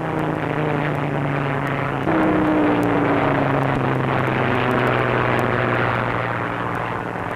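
A Supermarine Schneider racing seaplane drones loudly at Calshot in an early sound newsreel recording, its propeller engine holding a steady roar with a pitch shift partway through as it passes.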